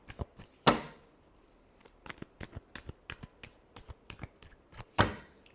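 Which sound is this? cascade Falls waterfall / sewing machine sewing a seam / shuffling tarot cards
shuffling tarot cards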